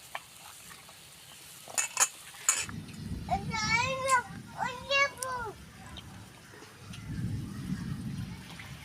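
A mashed mixture of hog plum and salt hits a hot wok and is stirred, giving a low sizzle with spoon scraping and some clinking. A person talks over the middle of it.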